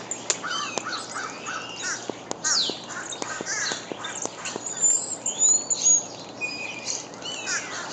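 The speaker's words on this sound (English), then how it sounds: "Some blue jays." Blue jays call outdoors at sunrise, a run of sharp, clipped cries and chirps of moderate loudness from somewhat far away, amid other birds and no talking.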